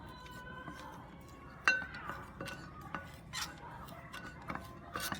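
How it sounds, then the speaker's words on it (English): A spoon stirring a love potion in a pot or glass, giving scattered soft scrapes and light metallic clinks with one sharper clink early on, close and fairly quiet, with no talking. "And we stir, and we stir,"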